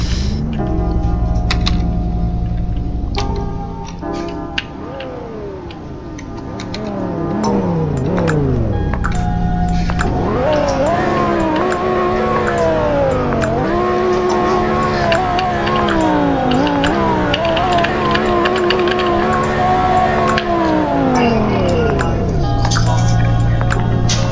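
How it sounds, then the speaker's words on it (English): A powerful Lamborghini engine revs hard several times, climbing and dropping in pitch with each blip, loud and close, ending in a throaty idle. "I'm gonna do a rev test"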